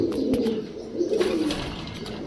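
A Kaldom pigeon pair, a Kaldom male and a Silver Dom female, give low throaty coos close up, a couple of rolling calls with small clicks and shuffles between them.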